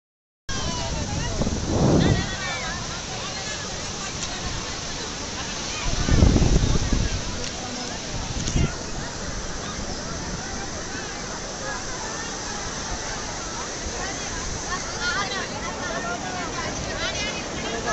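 Ocean waves surge at a beach in Puri, a steady broadband wash with a few louder breaking swells, heard close with wind on the microphone and no clear talk.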